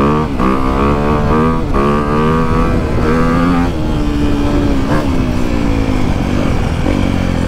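A motorcycle engine drones continuously at close range, its pitch rising and dipping slightly as the bike is ridden.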